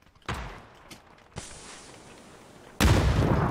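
A flashbang grenade goes off in a PUBG match: a sharp bang, then a steady high-pitched ringing that holds for over a second before a loud, roaring blast cuts in close by.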